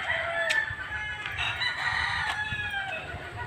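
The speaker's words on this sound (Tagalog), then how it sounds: "Maingay ang mga manok." Chickens on a farm crow and cluck noisily, several overlapping roosters sounding at moderate distance over a constant background of farmyard noise.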